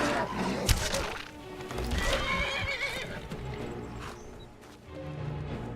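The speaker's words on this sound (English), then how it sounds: "Hey, leave my horse alone" A horse in the video game Skyrim whinnies loudly, mixed with hoof clip-clops and scuffling combat thuds, the neighs rising and falling over several seconds.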